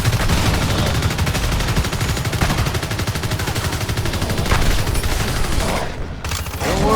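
Rapid bursts of automatic gunfire from the video game Evolve Stage 2, loud and continuous with dense rattling shots over several seconds, then a brief drop before firing resumes.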